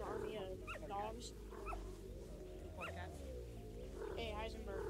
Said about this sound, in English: You want an army of dogs?